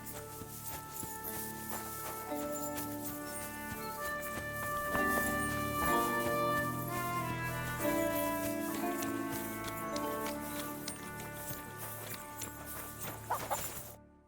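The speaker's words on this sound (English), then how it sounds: "Ah, ali os cavalos, ó." Horses in a castle stable in the video game Kingdom Come: Deliverance II, with faint hoof clops and animal sounds under a steady, tonal musical background, no talk.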